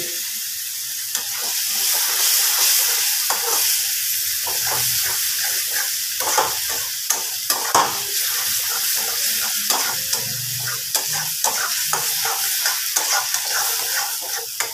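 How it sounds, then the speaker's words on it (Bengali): Soybean curry stir-fried in a pan, a steady loud sizzle with repeated scraping and stirring clicks of a spatula throughout, close by and without talk. "খুব ভালোভাবে কষে নেব"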